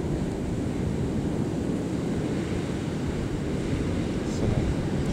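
Strong gale wind of 40 to 45 mph gusts across an open airfield in Cambridge, England, a loud continuous roaring rush buffeting the microphone with no letup.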